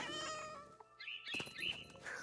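A cat meows in the video game What Remains of Edith Finch, a few short harmonic cries up close over a soft game background, with a brief thump partway through.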